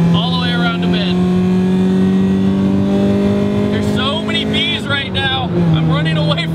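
Honda CRX engine pulling hard at high revs through a bend, a loud sustained engine drone rising steadily, with someone talking over it throughout.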